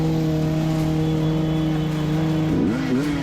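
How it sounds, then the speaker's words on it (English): Bikers' motorcycle engines revved to scare off a bear: a steady, close engine drone that rises briefly in a sharp rev near the end. "They revved their engine and made loud noises to deter the animal."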